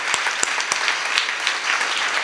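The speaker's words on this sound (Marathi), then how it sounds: "जोरदार टाळ्या कैलास भाऊंसाठी झाल्या पाहिजे." An audience at a Marathi kirtan applauds for an honoured trustee of the Tryambaknath temple, with steady dense clapping and a few sharper louder claps standing out, sustained throughout without speech over it.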